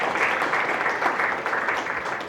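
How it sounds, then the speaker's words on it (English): Applause from an audience for panelists at the end of a discussion, a steady wash of clapping from many hands in a room. "let's give one more round of applause for our panelists"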